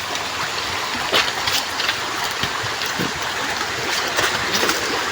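A river at a crossing point gives a steady, fairly loud rushing and trickling wash of flowing water throughout, with no talking.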